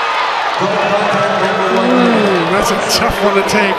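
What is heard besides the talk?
volleyball crowd booing a disputed referee call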